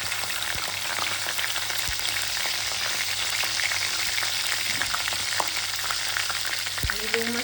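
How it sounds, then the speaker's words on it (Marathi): Curry leaves crackling and sizzling in hot oil with a little turmeric, a dense steady frying hiss with scattered pops, close and continuous, with no talk. "कढीपत्ता तडतड वाजतो त्यात थोडीशी हळद टाकली आहे"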